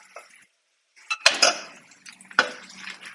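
Carrots being stirred in a pot, with a few distinct clinks and scrapes of a utensil against the pot, close and sparse with quiet gaps between them.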